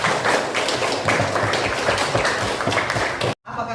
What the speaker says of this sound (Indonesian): Sebelumnya tepuk tangan dulu untuk kita semua nih